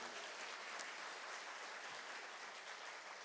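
A church congregation clapping together during a sermon, a soft, distant, continuous patter of many hands that stays even throughout.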